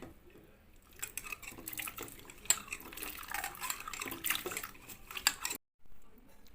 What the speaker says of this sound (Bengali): এবার পেঁপে আলুটাকে ভালো করে ধুয়ে নেওয়া হচ্ছে